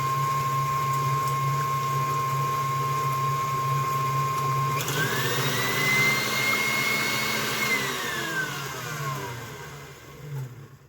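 Electric stand mixer whipping egg whites with cream of tartar in a bowl for meringue, a steady mechanical whine that rises in pitch as it speeds up, then slows and fades.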